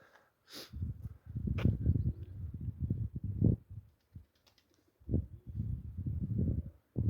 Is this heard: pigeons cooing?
yes